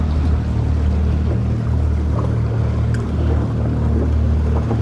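Steady wind rumbles over open water on a Florida fishing trip by boat, a dense continuous low roar with a faint hiss, loud and unbroken, no voices.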